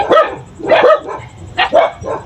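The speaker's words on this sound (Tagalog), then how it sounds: "Aso guys, aso namin." A household dog barks close by in three quick bursts of sharp, loud yaps, each a cluster of two or three barks, with no talking over them.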